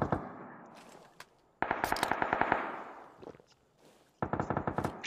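Rapid automatic gunfire in a shooting video game comes in several sharp bursts separated by quieter gaps, loud and close, with no talking over it.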